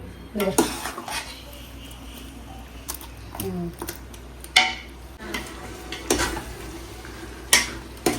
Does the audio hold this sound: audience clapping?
no